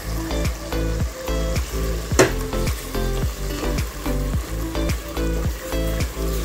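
Food frying in a pan with tomato paste sizzles steadily while a utensil stirs it in regular scraping strokes, close and continuous with no voices.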